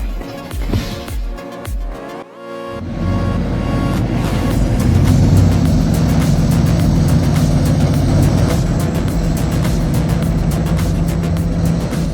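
A D8K tractor hauls a 280-horsepower truck loaded with 33,000 pounds of lumber up a muddy, slippery hill, a few clanks giving way to a loud, steady engine drone that holds to the end.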